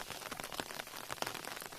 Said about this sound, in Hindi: बारिश को देखकर भी अब लग रहा है कि थोड़ी देर तक तो रह ही जाएगी